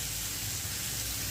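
Tomatoes go into a hot frying pan with onion, chillies, garlic, mustard seeds and cumin, giving a steady close sizzling hiss with a small sharp clink near the end.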